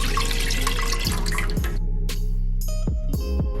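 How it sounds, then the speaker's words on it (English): Milk poured into a pot on a stovetop for baked macaroni and cheese, a steady liquid splash with a few sharp drips and clinks near the end, close and fairly loud. "I'm gonna go ahead and pour that milk that we had into the pot."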